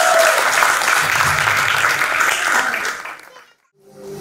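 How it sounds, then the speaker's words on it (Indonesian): Audience applause at a Toba rock concert for Lincah Panjaitan, a dense, loud wash of clapping that holds for about three seconds, then cuts off abruptly into near silence before the noise starts to rise again. "Tepuk tangan untuk Lincah Panjaitan 13."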